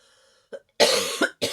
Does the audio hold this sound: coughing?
yes